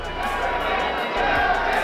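A boxing arena crowd roars and cheers during a Larry Holmes versus Trevor Berbick heavyweight fight, a broad, continuous swell of voices with commentators talking over it.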